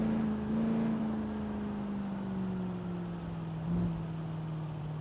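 A naturally aspirated V8 in a muscle car from the game Automation drones with a steady low engine hum, its pitch sliding slowly downward, with a brief swell near the end.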